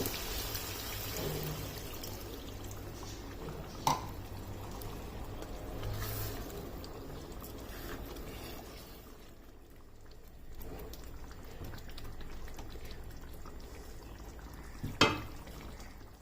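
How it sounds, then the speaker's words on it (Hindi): Half a cup of water is poured into chicken achar gosht in a pan, giving a soft, low, continuous wash with a couple of brief clinks, quiet and close, with no talking. "अब इसमें पानी ऐड कर देना है"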